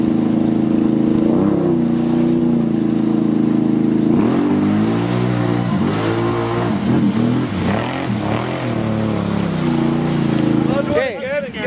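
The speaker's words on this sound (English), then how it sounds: "The bike starts going." A dirt bike engine runs loud and close, its pitch climbing and dipping through revs with a sharp rise near the end, while voices talk over it.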